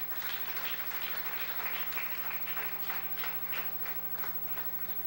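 Congregation applauding during a Spanish-language church sermon, a steady, moderately loud patter of clapping over a constant electrical hum, lasting throughout.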